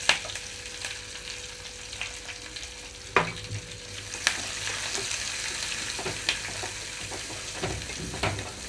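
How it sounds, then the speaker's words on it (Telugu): Chopped onions, green chillies and curry leaves fry in oil with a continuous sizzle, while a spoon stirs and scrapes the pan in irregular clinks close by. "ఉల్లిపాయలు కొంచెం సాఫ్ట్ కలర్కి వచ్చే వరకు వేయించుకోవాలి"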